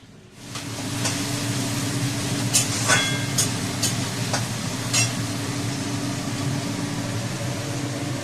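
Chow mein noodles stir-fried in a pan in a home kitchen: a steady, close sizzle with scattered scraping clicks and stirring knocks over a low background hum.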